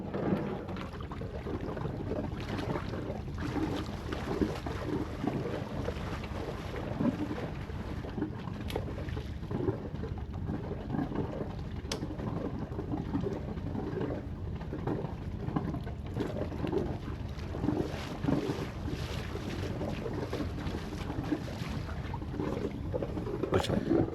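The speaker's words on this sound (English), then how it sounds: "That's how I launch my boat solo." Water sloshes and splashes around a hull amid gusty wind noise, with occasional knocks and clunks as a boat slides into the water.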